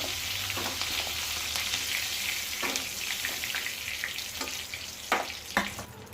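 Cornflour-coated paneer fries in a pan with a continuous close sizzle, broken now and then by sharp crackles and stirring scrapes, and no voices.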